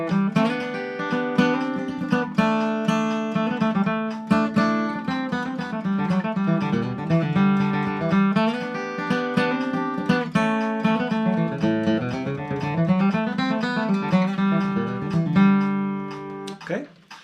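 A bluegrass fiddle plays a traditional kickoff for Salty Dog Blues in G, a fast run of bowed notes with a steady rhythm, loud and close throughout.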